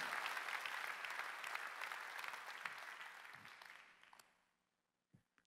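Church congregation at a Sunday worship service applauds together in a steady, full wash of clapping that tapers off after about four seconds, leaving near silence with a couple of faint knocks.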